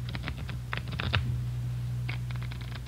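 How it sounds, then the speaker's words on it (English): Playing cards shuffled by hand in a radio drama: quick bursts of riffling clicks, then a pause, then another flurry over a low steady background hum. "Give him a good shuffle"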